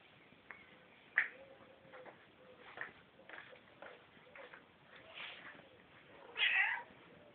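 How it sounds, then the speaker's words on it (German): An indignant cat meows faintly several times in short, scattered calls, ending with one louder, drawn-out complaint, over a quiet room with a faint ticking. "eine empörte und entrüstete Katze"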